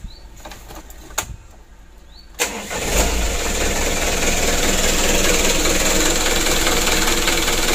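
A tour bus engine cranks briefly and catches, then settles into a loud, steady rumbling idle that continues to the end, with a few sharp knocks before it fires.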